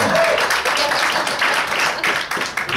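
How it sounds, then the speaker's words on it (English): A church congregation claps at a benefit singing, dense and loud applause with sharp individual claps, continuing at full strength throughout. "Give her a big hand of applause."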